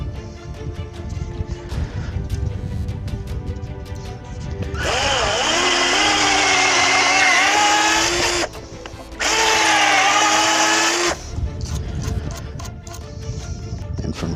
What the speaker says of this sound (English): I'm gonna go ahead and drill the hole for the lag screws